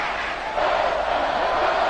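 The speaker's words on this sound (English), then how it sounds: "The crowd getting into it as we come up on a big 3rd down." Football game crowd roaring ahead of a big third down, a dense, loud wash of cheering that swells after a brief dip and holds steady.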